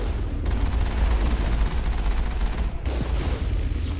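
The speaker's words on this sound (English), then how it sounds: "machine gun barely touches it" Sustained machine gun fire rattles in the Mass Effect video game during an assault on a Geth outpost, a loud, dense burst of rapid shots that breaks off briefly near the end and then resumes.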